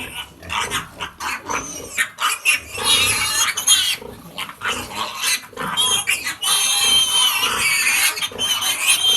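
Pigs on a farm grunt and squeal loudly and almost continuously, with harsh, overlapping bursts close by and no speech.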